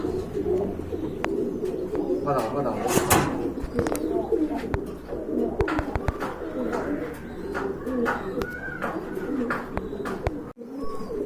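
Pigeons, including red-geared and Danish breeds, coo repeatedly nearby, soft throaty calls overlapping with other birds and some talking in the background at a pigeon sale.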